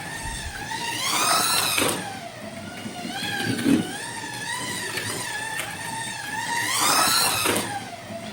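A Scalextric 1/32 Ferrari 330 P4 slot car laps the track with a steady, high electric whine that swoops up and down in pitch as it speeds along straights and slows through corners, near and alone.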